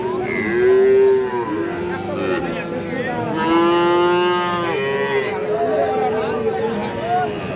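Cross-breed bull calves low loudly and repeatedly at Raniganj cattle market, with long drawn-out moos close by over the murmur and chatter of a market crowd.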